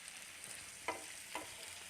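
Potato masala frying in hot oil, for a crispy potato fry, with a steady soft sizzle and two brief scraping stirs from a spoon in the pan.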